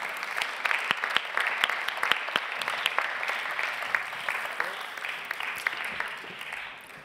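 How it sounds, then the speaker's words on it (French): A room applauding project founders on stage at a startup showcase, with distinct individual claps standing out over a moderate crowd patter that gradually thins and fades toward the end. "On peut les applaudir."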